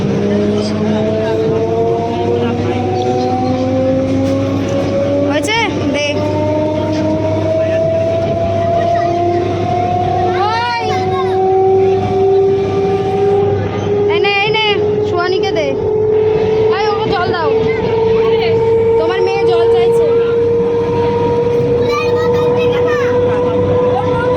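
A crowded passenger train running, with a steady loud rumble and a slowly rising mechanical whine beneath scattered voices of passengers talking nearby.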